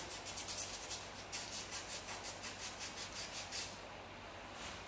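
A curb-rashed wheel on a 2019 Nissan Maxima SL hand-sanded with 80 grit sandpaper: faint, quick back-and-forth rubbing strokes in a steady rhythm, close by, with no talking.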